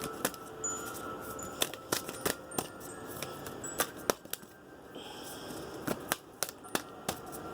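Tarot cards flick and snap repeatedly in quick irregular bursts as a deck is shuffled close by, with soft rustling between the sharp clicks.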